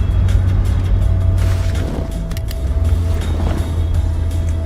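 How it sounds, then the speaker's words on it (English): Traffic sits idling in a jam near a tunnel, a steady close engine drone and rumble with brief sharper mechanical noises, no speech. "It's just a traffic jam."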